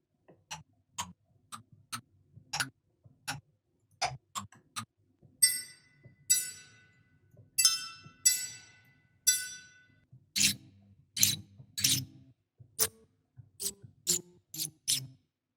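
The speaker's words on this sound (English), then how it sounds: "they took some flower pots, they just recorded them hitting them at different like velocities" Struck flower pots sampled at varying velocities, heard as a run of sharp, hollow clay knocks in an uneven rhythm, some ringing brighter than others, close and dry with no voices.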